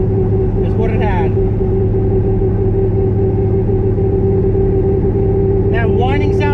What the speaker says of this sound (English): That whining sound here is the rear gears.